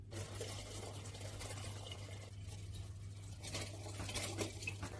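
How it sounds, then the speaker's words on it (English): Water poured into a fermentation tank for homemade banana honey wine, a steady liquid patter running through the whole stretch over a low constant hum, with no talk. "we'll go ahead and pour the water into the fermentation tank"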